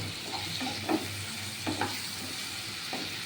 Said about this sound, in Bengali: এই রসুন বাটা দিয়ে এই পেঁয়াজটা একটু নাড়াচাড়া করে নেব